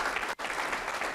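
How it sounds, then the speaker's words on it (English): A crowd applauds at a 2023 State of the City address, producing a thick, continuous roll of many hands clapping that briefly cuts out near the start and then resumes at full strength. "I think that deserves a hand clap."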